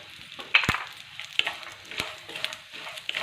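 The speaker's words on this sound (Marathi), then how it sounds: "ते पण छान मस्त असं कमी गॅसवरती भाजून घ्यायचं आहे एकसारखं हलवत" Sesame seeds and coconut roast in oil over a low flame, a soft sizzle broken by sharp scrapes and clicks as a spoon stirs them around the pan, fairly close with no talk.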